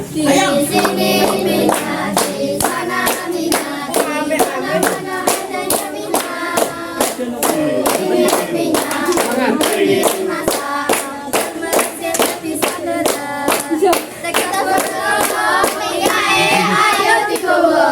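Students on a class outing to the Wonocolo oil field clap their hands together in a steady, quick rhythm, with sharp group claps repeating throughout and voices chanting along underneath.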